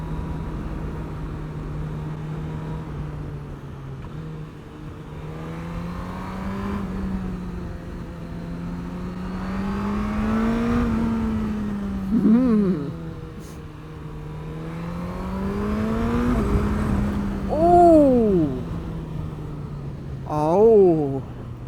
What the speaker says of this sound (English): If you push it a bit harder on the quick shifter, you get some nice little pongs.